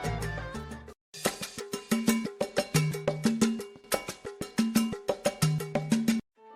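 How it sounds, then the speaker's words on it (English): Salsa conga tumbao played as a variation with two extra low open tones added to the pattern, heard as a steady, loud, crisp hand-drum groove with a bright, cowbell-like ring, stopping briefly near the start and cutting off at the end. "the conga player will sometimes add 2 extra low open tones to the pattern so that it sounds like"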